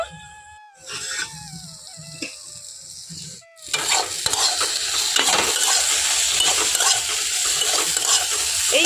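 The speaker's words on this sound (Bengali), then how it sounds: "এরকমভাবে হালকা আঁচে নাড়াচাড়া করে বেগুনটাকে কিন্তু ভেজে নিতে হবে খুব ভালো করে" Eggplant and neem leaves fry and are stirred in a pan over low heat, with a steady broadband sizzle rising after a brief lull and spatula scrapes and clinks scattered through it, close and fairly loud.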